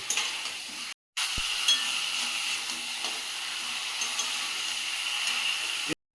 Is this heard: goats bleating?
no